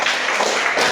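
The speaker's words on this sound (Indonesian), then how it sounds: "tepuk tangan untuk anak-anak sekalian" Children in a classroom clap together after group presentations, producing a brief, dense burst of close applause.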